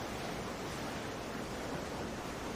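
Soft, steady ocean surf washes without a break, a broad, even rush of waves with a faint windy edge, fairly quiet and heard alone with no voices.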